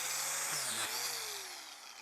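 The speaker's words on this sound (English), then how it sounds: "You want to keep the angle grinder at 90 degrees if possible." An angle grinder bores holes into a mushroom log, a steady high-pitched whine with shifting pitch as the tool bites into the wood, close and loud and running alone throughout.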